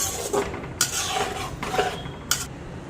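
Metal kitchen clatter, a pot lid set onto a cooking pot of rui fish curry with clinks and scrapes, a few sharp contacts standing out over steady background noise.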